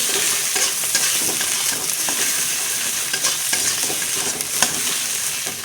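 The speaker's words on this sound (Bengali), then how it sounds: "আর একটু কষিয়ে নেব।" Turmeric and salt sautéing into a spice masala in hot oil, a steady close sizzle broken by the scrape and clatter of stirring, with no talking.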